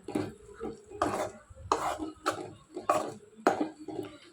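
Chapati egg kothu sautéed in a pan, with a spatula scraping and clanking against the metal in a steady rhythm of about seven strokes, close and moderately loud with no voices.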